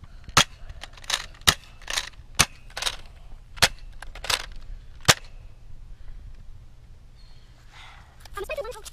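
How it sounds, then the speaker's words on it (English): An X-Shot toy foam dart blaster fires repeatedly, giving sharp close snaps in an uneven series of about ten shots, with a voice talking briefly near the end. "Next up is not a Nerf gun. It's an X shot."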